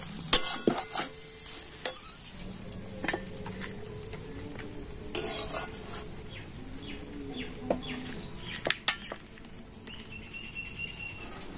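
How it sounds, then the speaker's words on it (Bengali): A spoon scrapes and taps around a pan as a potato filling is stirred, with soft irregular clatter and a faint sizzle underneath. "চাট মশলা দিয়ে আবারও ভালোভাবে সবকিছু মিশিয়ে নিচ্ছি"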